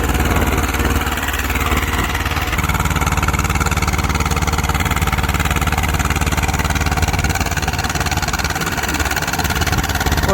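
An Eicher 312 tractor engine runs flat out at full revs in a tractor pulling contest, a loud, continuous, rough diesel roar throughout.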